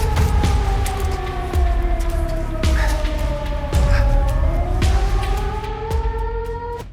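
A loud, sustained civil defense warning siren wails steadily outdoors, its pitch slowly sliding, with occasional sharp knocks or clicks over the top.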